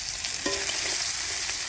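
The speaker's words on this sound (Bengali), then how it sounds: "এই তেলের মধ্যে পেঁয়াজ দিয়ে দিলাম।" Onions sizzle steadily in hot oil for a fish curry cooked on a clay stove, a loud continuous hiss with a light utensil scrape partway through.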